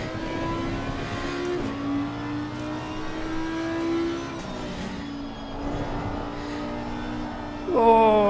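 A GT4 race car engine in Assetto Corsa Competizione revs steadily and drops pitch through several early upshifts, a continuous mid-range drone with a sharp rise at the end, no talking over it.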